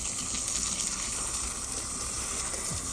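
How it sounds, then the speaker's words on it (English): A steady, broad rush of water pours without a break as a volunteer lantana in a garden gets watered, loud and close. "Gotta water my volunteer lantana."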